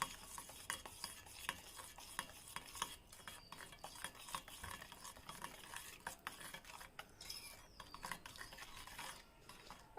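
Powdered sugar being stirred into curd and oil in a bowl, a faint continuous scraping and clinking of a spoon in quick, irregular strokes, close but quiet, with no one talking.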